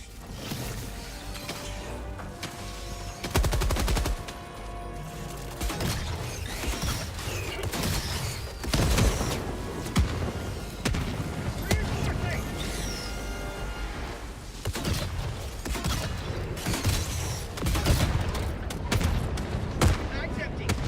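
Sentry gunfire in Helldivers 2, with bursts of automatic shooting, impacts and crashing debris layered densely over one another, loud and continuous through the whole stretch alongside occasional game voice lines.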